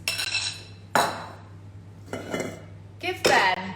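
Sliced bananas go into a bowl of liquid muffin batter ingredients, giving a few sharp clinks and knocks of utensil against the bowl, separated by quiet gaps.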